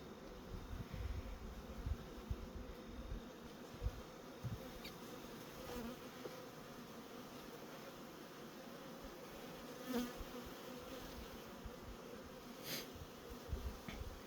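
Honey bees from a big, strong colony hum in a continuous low, faint drone as a hive is opened for an October inspection, with occasional brief louder buzzes from bees passing close.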